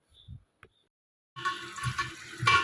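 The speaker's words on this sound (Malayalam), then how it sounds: "ഇനി നമുക്ക് ഈ കട്ടി കുറഞ്ഞ കഷ്ണങ്ങളെല്ലാം കഴുകാം." Cut vegetables for sambar, including onion, tomato, ivy gourd, okra and drumstick, are washed in water. Short splashes come first, then a steady close rush of running water with sloshing for the last second or so.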